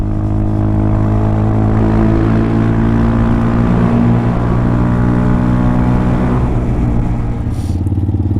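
A Hawk DLX 250 motorcycle with a new exhaust runs steadily and loud, its engine drone holding even throughout with slight bogging changes in pitch and no talk.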